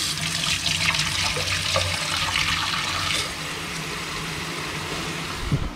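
Tap water runs steadily into a pot for boiling pasta, a continuous close hiss of filling water that holds for several seconds before easing slightly, with no talk over it.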